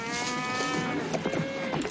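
A herd of cattle bellows by a creek on a Western cattle drive. Several overlapping moos rise and fall close by, with low lowing continuing throughout.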